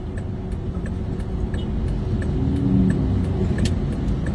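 Road traffic stuck in a jam near Tebet, where the road is under repair, gives a steady low engine rumble from nearby idling and creeping vehicles, rising slightly midway, with faint clicks and no talk.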